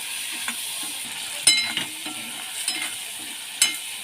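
Tomato and onion frying in a pan while being stirred: a steady soft sizzle runs throughout, broken by a few sharp utensil scrapes and clinks against the pan, with no talking.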